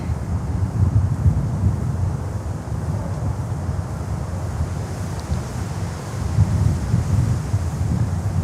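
Steady broadband wind buffets an outdoor camera microphone beside an airport runway, a continuous low rumble that swells and eases in gusts with no voices.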